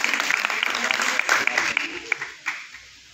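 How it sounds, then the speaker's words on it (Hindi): Audience applause at a Teachers Day event, a steady wash of many hands clapping that swells and thins over a few seconds, with a voice speaking over it. "और ताली थोड़ा जोरदार तरीके से दीजिए"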